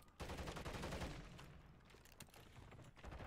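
Rapid automatic gunfire in a first-person shooter game, a dense loud burst fired at an enemy UAV overhead, then continuing sporadic shots and booms.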